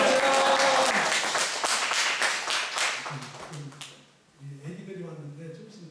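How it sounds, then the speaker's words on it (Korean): A church congregation claps loudly at a Korean service, the broadband applause dense for about three seconds before thinning out, and talk and tonal sound take over in the second half. "오늘 일부 오신 그 목사님께 큰 박수와 할렐루야라고 감사하겠습니다"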